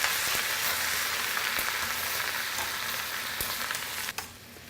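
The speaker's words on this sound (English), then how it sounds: "I'm going to go ahead and add my tomatoes. I'm going to give them a good stir around." Tomatoes sizzle and crackle steadily in a frying pan with other vegetables for halibut caprese, a dense close hiss with a few stirring scrapes and a sharper clack near the end, no voices.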